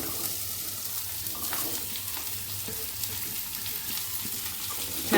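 Finely chopped onions frying with garlic and green chilli paste for methi paratha, giving a steady close sizzle and hiss with faint scattered stirring clicks.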